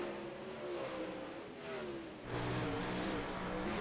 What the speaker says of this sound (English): Listen to the throttle input that he's using here on the low side of the race course